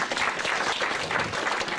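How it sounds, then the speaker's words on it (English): Steady, dense applause from an audience at a gathering, even and continuous throughout without talk. "applaud yourselves"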